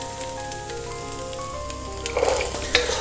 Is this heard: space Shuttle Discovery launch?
no